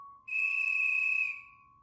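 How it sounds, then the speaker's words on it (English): A lifeguard's whistle at a lakeside campground gives one long, loud, steady shriek lasting about a second, then cuts off. No voices are heard. "whistle shrieked through the campground, startling campers and counselors alike"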